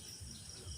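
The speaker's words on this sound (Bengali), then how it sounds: "এটা ঝিঝি পোকার ডাক পাওয়া যাচ্ছে।" Crickets chirping in a jungle at dusk, a faint continuous high trill over a low background hush.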